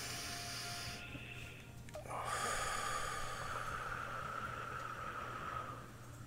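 One deep, slow breath taken during a guided relaxation session, a soft close inhale rising into a sustained airy exhale over several seconds, faint and alone over low hum.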